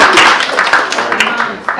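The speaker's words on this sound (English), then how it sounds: "Let's clap for them" Short burst of clapping from a small group at a school board special meeting, loud and close with irregular sharp claps, voices murmuring underneath.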